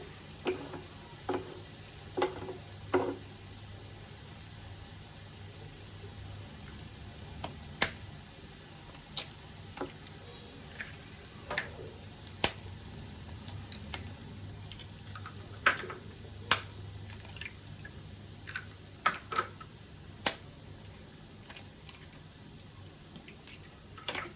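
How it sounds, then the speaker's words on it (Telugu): Five eggs cracked one after another into a pan of curry for egg porutu curry, sharp scattered shell cracks and taps over a steady low sizzle, no voices. "ఇప్పుడు దీంట్లో మనము ఎగ్స్ పలగొట్టి వేసుకోవాలి"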